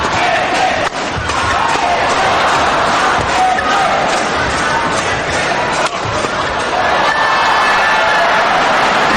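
Badminton crowd at a 2002 Thomas Cup semifinal cheering loudly and steadily after trick shots in a rally, a dense continuous roar with a brief dip near the one-second mark.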